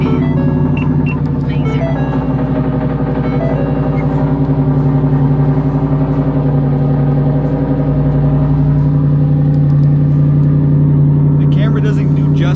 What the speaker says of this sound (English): I'll give you guys a little cold start